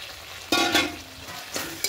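Fried potatoes dropped into spiced masala and sautéed, starting with a sudden loud sizzle, then rough scraping stirs that fade into a quieter fry, heard close with no talking.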